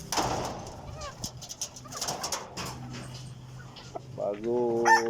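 Pet backyard chickens on a small farm clucking and calling at feeding time, several short clucks and then a louder drawn-out call near the end, with someone speaking in between.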